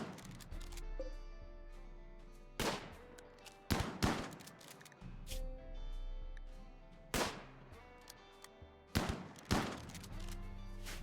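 Shotgun blasts in a cave survival video game with chaotic fighting crack out as a series of loud, sharp booms at irregular intervals, several in quick pairs, with quieter clatter and clicks in the gaps.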